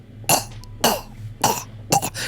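A voice imitates a character's coughing fit: four harsh, raspy coughs in quick succession, close and loud.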